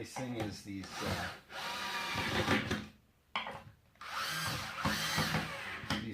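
A power drill drives screws into a base cabinet in bursts of whirring close by, with a short pause between runs, while a person talks over it.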